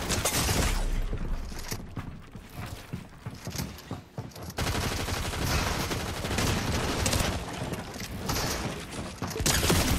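Rapid gunfire and shattering effects from a Fortnite match, dense overlapping bursts of shots that continue almost without pause at high volume throughout.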